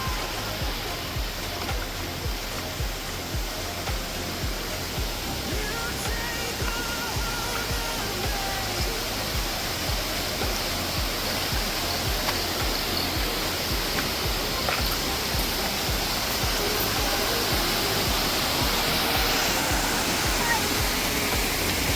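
Cobra waterfall in Malappuram, in the Mini Ooty area, roars as a constant, dense wash of falling water, loud and unbroken throughout.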